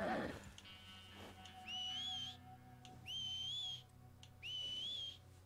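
Three sharp, rising whistles ring out in Red Dead Redemption 2, calling a red chestnut Arabian horse, each a loud, clean note lasting about a second with short gaps between them, over quiet outdoor game ambience.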